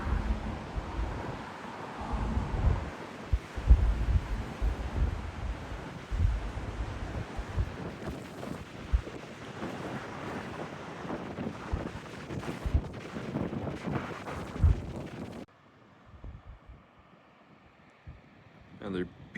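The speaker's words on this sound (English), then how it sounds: "It's not uncommon to have 100-mile-an-hour winds on Turnagain Arm." Strong gusts buffet the microphone along Turnagain Arm in Alaska, a loud, continuous roaring rush for about fifteen seconds that then drops abruptly to a quieter, thinner background.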